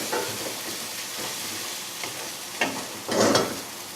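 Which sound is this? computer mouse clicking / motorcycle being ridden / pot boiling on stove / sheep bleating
pot boiling on stove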